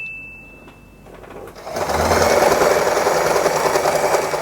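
A sewing machine starts up after a brief pause and runs steadily, its loud continuous whirring motor stitching through folded fabric while making a small hair bow, close by with no talking.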